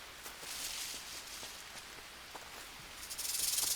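A snake lurks close by amid rain in the jungle survival video game Green Hell, its soft hissing rising to a louder, sharper hiss at the end over a steady rain patter, with no talking.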